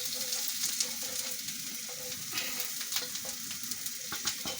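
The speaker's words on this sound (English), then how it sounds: "my onions are almost ready, and it's a bit smoky because the heat is quite high, and this is a wok." Onions fry in a wok over high heat, giving a steady, close sizzle with scattered crackles and pops throughout. No one speaks.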